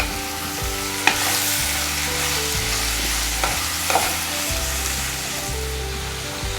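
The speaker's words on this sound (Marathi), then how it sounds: "टमॅटो भाजताना थोडंसं तेल टाकूयात यामध्ये छान असं टमॅटो जो आहे तो छान असा आपल्याला फ्राय करून घ्यायचा" Green tomatoes frying in a little oil for a spicy chutney, a loud, steady sizzle with stirring scrapes and a few sharp pops, continuous and close.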